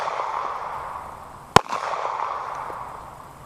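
A single sharp, loud shot from a Sig Sauer P238 pistol firing a .380 LFMJ round into a one-inch polyurea block outdoors, with a brief echo tail under quiet ambient noise.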